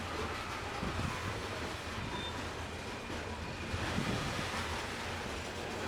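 A Conrail freight train of hopper cars rolls past near the Gallitzin, Pennsylvania tunnels, a steady broad rumble and rushing roar that holds constant throughout, with no voices.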